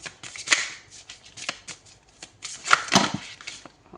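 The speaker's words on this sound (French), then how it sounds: "Allez, on prend une deuxième carte." Tarot cards being shuffled by hand, close and crisp, with a string of quick riffling snaps and soft slides in an uneven rhythm, louder flurries near the start and just before the end, no talking.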